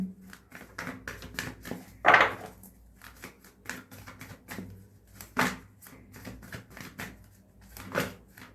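Tarot cards riffled and drawn during a reading, soft papery flicks and taps in uneven bursts with one louder snap of cards, close and quiet, no speech.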